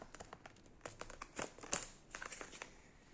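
Paper being folded and creased by hand to make a paper shuriken, with soft, close crinkling and rustling that rises in a few brisker scrapes, heard alone.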